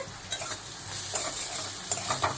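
A spatula scrapes and stirs salt and turmeric in a frying pan, giving several soft irregular scraping strokes over a steady low sizzle, close and fairly quiet.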